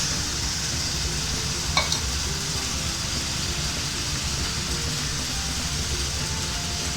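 A lentil mixture for ladoo pithi patties fries in a pan, giving a steady, close sizzle with a brief scrape of stirring near the start and continuous hissing throughout.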